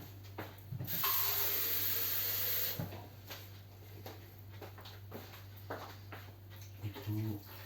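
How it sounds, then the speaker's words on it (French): A small amount of water poured while cooking a pork roast in a Ninja Speedi appliance, a bright splashing run of about two seconds, with someone speaking softly before and after. "Je vais en mettre un petit peu d'eau."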